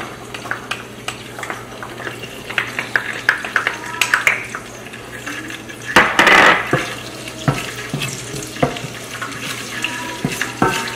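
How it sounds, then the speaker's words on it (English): Chopped garlic and ginger sizzle while being stirred in a frying pan, with a steady hiss under repeated scrapes and clinks of the utensil against the pan and a louder burst of sizzling midway. "I will stir a little bit"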